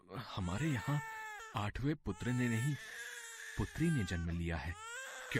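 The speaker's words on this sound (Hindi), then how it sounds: "अरे ये तो बच्चे के रोने की आवाज है।" A newborn baby girl cries in a palace birth scene from the Krishna birth story, wailing under and between louder spoken dialogue.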